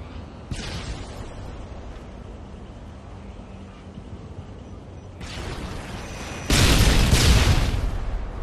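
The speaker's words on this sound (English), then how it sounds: "I'm getting grenaded twice." Grenades explode in a hardcore search-and-destroy match of a first-person shooter game: two loud, broad blasts arrive a second or so apart near the end, over a low ongoing background.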